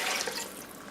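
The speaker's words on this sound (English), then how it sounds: "Here goes the broth." Broth pours steadily into a casserole dish for a stuffed green pepper casserole, a continuous close liquid splash and trickle throughout, with no voices.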